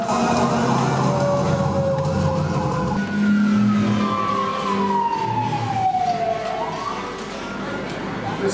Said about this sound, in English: If you hear a fire engine, get out of the way.